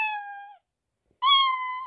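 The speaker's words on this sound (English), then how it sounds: "Oh, it's a cat." A cat meows twice in the video game My Town, two clear, fairly loud tonal calls separated by a short pause.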